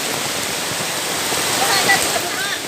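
Heavy rain pours down during Typhoon Aghon in Camarines Sur, Bicol, as a dense, steady roaring hiss that stays loud and continuous throughout.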